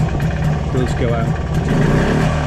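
A two-stroke MZ TS125 motorcycle engine hums at low idle as the revs drop back, a steady mid-pitched putter heard up close and loud throughout.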